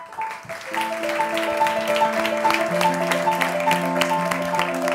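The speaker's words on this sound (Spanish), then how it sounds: "Un fuerte aplauso para todos ellos." A festival audience at a San Sebastián film event bursts into dense, continuous clapping, mixed with sustained tonal music playing at the same time.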